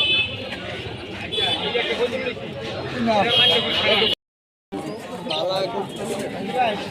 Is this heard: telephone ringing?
no